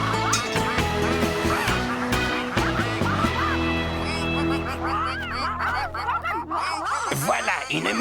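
Several ducks or geese honk and quack in a noisy, overlapping chorus, with music playing underneath, in the cartoon Bob the Builder.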